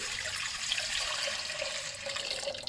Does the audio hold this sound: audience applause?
no